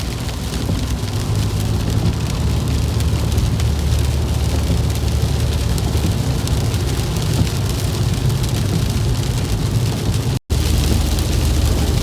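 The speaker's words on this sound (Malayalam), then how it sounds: "നല്ല മഴ, ഇന്നലെ രാത്രി തൊട്ട് തുടങ്ങിയ മഴയാണ്." Heavy rain pours down steadily, a dense unbroken hiss with a low rumble beneath, continuous throughout with no voices.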